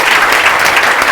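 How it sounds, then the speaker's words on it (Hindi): Dense audience applause at a felicitation event for a student selected for a government job at a coaching institute, steady loud clapping filling the brief moment. "सब लोग जोरदार तालियों से स्वागत करिएगा"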